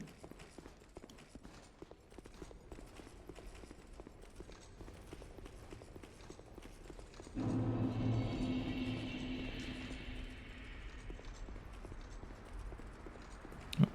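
Horses' hooves clip-clopping in the game Dark Souls II: Scholar of the First Sin, a steady rhythmic series of hoofbeats for the length, with a louder rumbling ambient swell joining midway.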